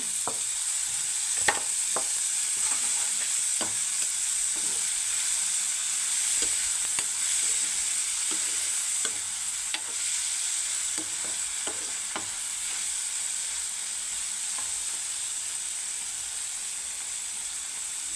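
Long beans stir-fry in hot oil, a constant bright sizzle and hiss with scattered clicks and scrapes of stirring, close and steady without talk.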